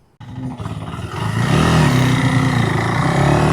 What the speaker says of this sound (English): Let's just take it out here and ride it, see what it does.